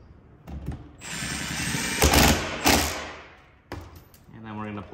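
Power tool tightening bolts on a 2022 Ford F-350 King Ranch truck, a whirring impact driver buzz in bursts with metallic clanks, close, while someone talks over it.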